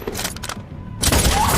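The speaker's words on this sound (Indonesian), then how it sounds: "tak tahu dari mana tembakan itu berasal" Gunfire in a film scene during a shootout at a house, a short burst of rapid shots followed by a brief lull and another loud volley.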